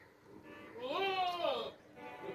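A two-tooth Qurbani goat, a makhi cheena type, lets out one drawn-out, wavering bleat that rises and falls, fairly close, over a low background murmur.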